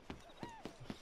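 A horse's hooves clip-clop in Red Dead Redemption 2, four evenly spaced, fairly faint hoofbeats in about a second, with a soft tonal sound gliding between them.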